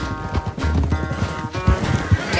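Horses in Red Dead Redemption 2 clip-clop steadily on the ground nearby, with a rumbling, busy game soundscape behind and a possible brief whinny; no speech over it.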